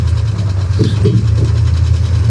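An old Ford bumpside pickup truck, rescued after sitting parked for more than 15 years, runs with a loud, steady low engine rumble heard from close by, with no talking.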